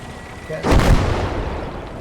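A tank cannon fires in the WWII strategy game Kampfgruppe, a single heavy boom with a long rumbling decay following a brief quiet lead-in.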